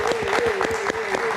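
A studio audience on a TV talk show claps for a singer, with quick rhythmic bursts of applause sounding over a sustained steady tone, loud and close.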